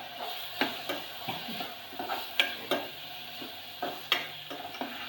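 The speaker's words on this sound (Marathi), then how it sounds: "आपला घरगुती मसाला, गरम मसाला, हळदी पावडर, हे आपण मिक्स करून घेणार आहे" Homemade masala, garam masala and turmeric powder are mixed into a pan dish of field beans and Konkan greens, the spoon clicking and scraping against the pot in irregular strokes over a light sizzle.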